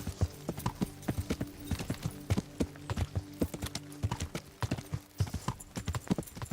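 Horse hooves clip-clop in a steady, rhythmic gait in the medieval video game Kingdom Come: Deliverance, close and moderately loud with no talk over them.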